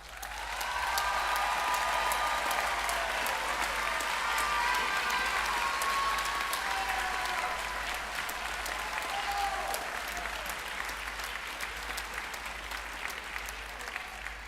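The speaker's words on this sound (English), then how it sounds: "I need everyone in this space to help me give the graduates a round of applause." An audience applauds graduates at the 2025 Connecticut State Community College Middlesex commencement ceremony, a broad, sustained wash of clapping from a large crowd that holds steady for about fourteen seconds before easing slightly, with faint voices underneath.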